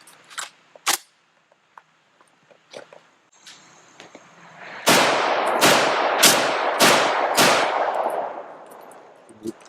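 A 12-gauge bullpup shotgun fires 2 3/4-inch, 1-ounce clay shotshells outdoors. After faint handling clicks, five loud, sharp booms come in quick succession, each followed by a brief ringing decay.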